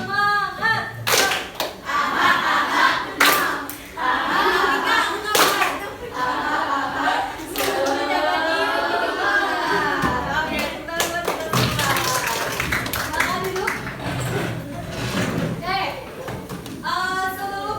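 A group of pupils in a school counselling session performs a rhythmic cheer clap, with quick patterned bursts and sharp accented claps mixed with children's chanting voices and excited talk across the whole stretch.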